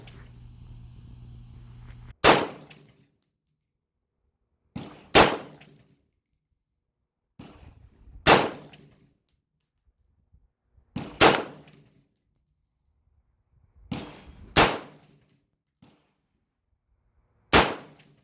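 Sharp, loud rifle shots from an AR-15 with a Del Ton 20-inch barrel firing green tip rounds, six single reports spaced a few seconds apart, each with a short echoing tail, no talking.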